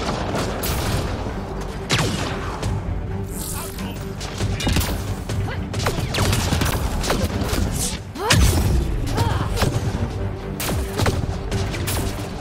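A grenade blasts amid a desert skirmish in Mass Effect Andromeda, one heavy boom landing partway through a steady clatter of gunfire and thuds, with voices talking over the fighting.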